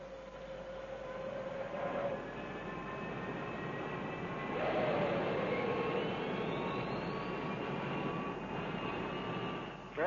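Number 3 engine of an airliner spooling up during start, a broad rising roar with whining tones that climb steadily in pitch, heard from inside the aircraft.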